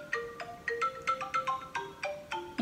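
A phone ringtone set as an alarm plays a bright, bouncy melody of quick electronic tones in rapid repeating phrases, clear and close with no talking.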